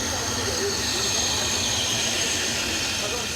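A steam locomotive on the Khyber Pass line in the Hindu Kush gives a continuous broad, loud hiss and rumble, steady throughout with no distinct breaks.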